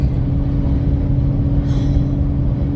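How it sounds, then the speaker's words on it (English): Pickup truck fitted with loud aftermarket exhaust pipes, a heavy steady low rumble close to the microphone, running continuously without clear revving peaks and with no talking. "even with these loud pipes on my truck"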